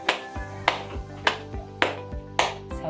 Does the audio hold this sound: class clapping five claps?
yes